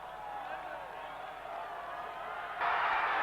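Stadium crowd at a 1990 Colombia versus USSR friendly football match booing, a broad, distant roar that swells louder near the end, under a commentator's voice.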